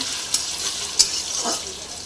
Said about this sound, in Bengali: পনিরটা ভাজা হচ্ছে